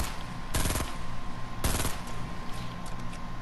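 Video game gunfire in two loud bursts of rapid shots, the first around half a second in and the second a second later, each lasting about a quarter second over a steady background hum.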